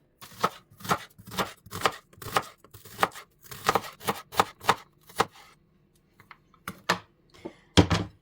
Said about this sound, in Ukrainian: цибулиночку ріжемо напівкільцями або кільцями, кому як зручно